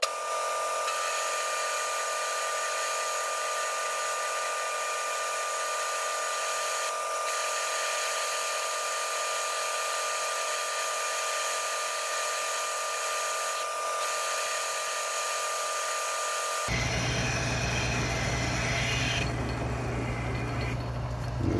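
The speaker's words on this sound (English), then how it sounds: "I've never run a parting tool on something with this big of a diameter" A lathe parting tool cuts into a large-diameter workpiece, a steady high whine with a constant ringing tone. It then changes to a rougher, lower grinding noise near the end, close and with no speech.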